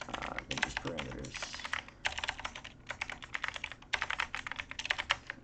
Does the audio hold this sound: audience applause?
no